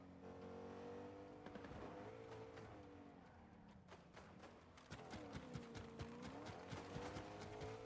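A car engine in Fortnite hums steadily, its pitch rising and falling as it revs and eases off, with sharp clicks and thumps scattered over the drone.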